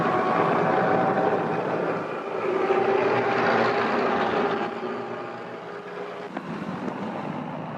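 Engines of a Lufthansa Junkers airliner in a restored historical aviation film, a steady droning roar that swells midway and then fades slightly, heard alone without talk.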